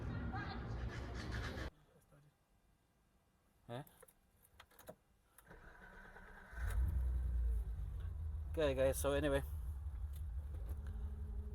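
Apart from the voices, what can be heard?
BMW E30 325i stroker engine starting and idling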